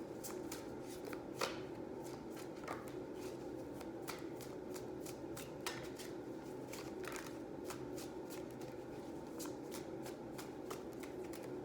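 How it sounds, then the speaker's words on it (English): Tarot cards shuffled and drawn in a quiet setting, a continuous soft riffling rustle with scattered crisp card snaps and flicks, close and gentle throughout. "So I'm just gonna draw 3 cards."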